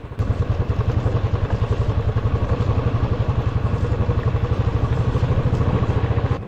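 A motorcycle engine thumps in a steady, fast rhythmic pulse while riding the high Tanglang La mountain pass on the road from Manali to Ladakh, loud and close, with wind rushing over it.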